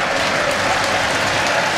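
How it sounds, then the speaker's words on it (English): Aldershot Town supporters applaud in a stadium at the FA Trophy Final, sustained loud clapping from a large crowd, dense and even from start to finish. "The Aldershot fans rise to their feet and applaud the man who grabbed their first goal this afternoon"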